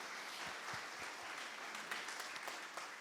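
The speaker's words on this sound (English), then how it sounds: "A big round of applause for OLF." Audience applause at a talk on gender and identity: a faint, sustained patter of many hands clapping, distant and even, with a few sharper individual claps standing out.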